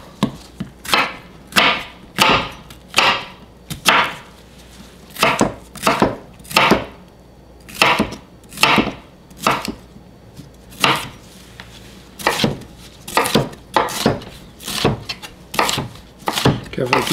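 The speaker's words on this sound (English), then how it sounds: "Slice it large, slice it small, slice it how you want." A knife chops through pepper on a cutting board in a home kitchen, giving a steady run of crisp, close, evenly spaced thuds and knocks for the whole stretch, with no talking.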